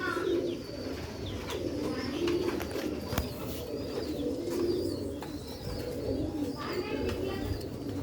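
Pigeons cooing in repeated low rolling phrases, with faint chirps and a brief sharp tap mid-way, the birds close and steady.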